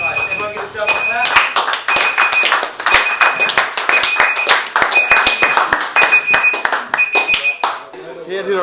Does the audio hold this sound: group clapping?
yes